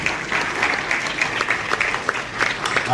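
A steady wash of applause from an audience gathered at a student honours ceremony in a community hall, thick and continuous with scattered sharper claps standing out near the front.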